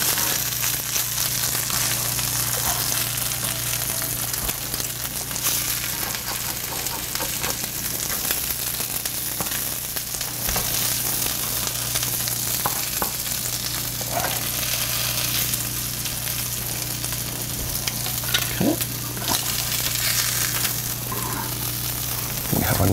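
Crab cakes fry in a pan with a steady, close, even sizzle that continues throughout, joined by a few faint clinks near the end.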